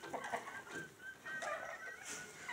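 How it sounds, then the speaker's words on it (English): A flock of chickens clucking on a farm, several nearby birds giving short, overlapping clucks and calls at moderate volume with no talking. "So there's some there, a bunch of chickens."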